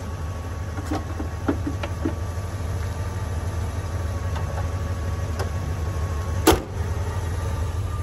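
Sportsmobile Ford E250 adventure van rolling along with a steady low engine drone and road rumble, a few faint clicks and one sharp brief knock partway through; no voices.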